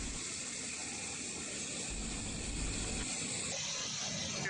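Chemical-laden city wastewater pours into an open drain that feeds the Yamuna, making a steady, continuous rushing gush with no pauses.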